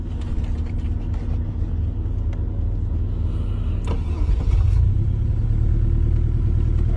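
A car engine runs steadily through a driving lesson, with a loud continuous rumble that shifts in pitch partway through as the learner works the accelerator and clutch.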